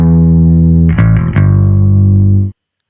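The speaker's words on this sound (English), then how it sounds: "just adding some grit and some distortion just to kind of help things pop out a little more." A heavily distorted, gritty synth tone sustains loudly, with a brief choppy change in the middle before cutting off abruptly.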